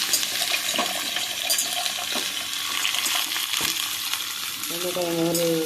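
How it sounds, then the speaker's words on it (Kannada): Sliced okra sizzling and frying in hot oil in a pan, a steady crackling hiss with clinks of stirring and a brief voice near the end. "ಎಣ್ಣೆ ಹಾಕಿದ್ದೀನಿ ಬೆಂಡೆಕಾಯಿ ಫ್ರೈ ಮಾಡಲಿಕ್ಕೆ ಹಾಕ್ತೀನಿ"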